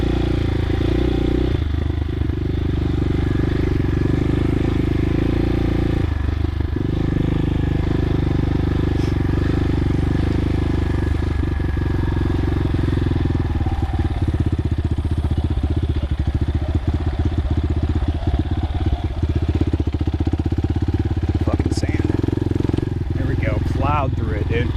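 A CSC TT250 trail motorcycle churns through loose sand with its front tire washing out. The engine gives a steady, close rumble with clattering and scraping mixed in, under constant wind noise.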